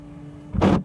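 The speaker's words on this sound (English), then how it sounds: "The windshield washer's broken." A broken windshield washer on a car lets out a short, loud electric whir lasting about a quarter second, with a steady low hum underneath.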